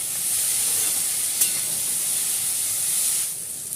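Vegetables fry lightly in a pan with a steady, hissing sizzle that holds evenly throughout, with one brief sharp crackle.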